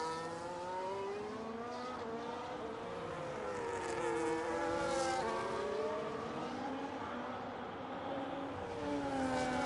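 Several race cars lapping Silverstone in a racing video game, their engine notes rising and falling in steady overlapping whines that carry on throughout, fairly loud, with no talk over them.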